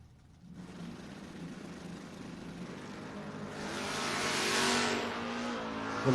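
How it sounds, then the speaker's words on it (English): Drag racing cars, a Mustang against a Buick, accelerate hard after a quiet start, the engine roar swelling and brightening into a loud surge before easing slightly at the end. "Jersey Concrete Mustang getting ready to move up against Michael Underwood's Buick out of Louisville"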